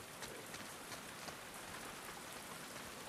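Steady rain falls in the video game The Last of Us Part II, a continuous close hiss of drops pattering on surfaces with no pauses, heard alone at moderate loudness.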